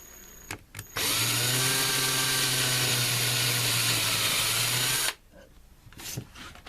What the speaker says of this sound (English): I can drill a pilot hole.